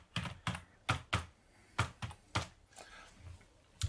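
Keys tapped on a computer keyboard while entering an admin login and password for a Machine Works installation, about ten separate clicks in an uneven rhythm, close and fairly quiet with no talking.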